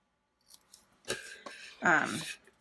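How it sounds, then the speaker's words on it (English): Scissors snip through paper tickets in a few short cuts close to the microphone, the last cut longer and louder, between brief pauses. "I'm going to just cut this one out"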